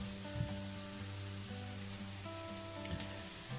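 Soft, steady sizzling of onion frying in lard in a pan, a continuous low crackle with a faint hum underneath and no voices.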